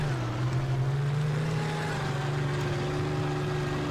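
A 23-liter V12 tank engine in the game GMod, a steady low droning hum that idles and revs slightly, continuous and close with no voices.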